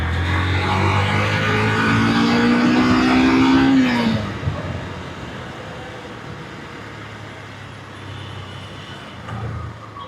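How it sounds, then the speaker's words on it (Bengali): A Yamaha FZ V2 motorcycle engine revs loud and close, its note climbing steadily for a few seconds before dropping away into a lower, steadier running rumble and road noise. "বাইকে মানে ইঞ্জিন সাউন্ড একটু রিফাইন্ড সাউন্ড আর কি"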